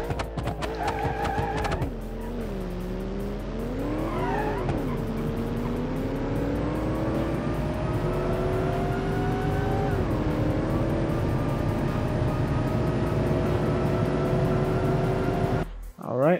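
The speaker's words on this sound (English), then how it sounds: "this beautiful looking drag car, supercharged V8" Supercharged V8 drag car in the video game BeamNG.Drive, engine revving up then holding a loud, rising drone as it accelerates, with a brief tire squeal, while a voice talks over it.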